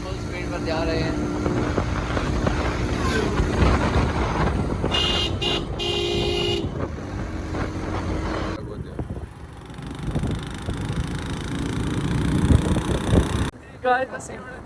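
A motorcycle ridden at full speed through city streets, with steady wind buffeting and engine roar throughout, a few horn toots from traffic, and voices talking over the noise.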